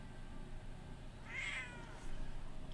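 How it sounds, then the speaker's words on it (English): Thief, a pet cat, gives one short, clear meow midway through over a low steady room hum, with no one talking. "Thief is like, I don't care. I just want to meow at you."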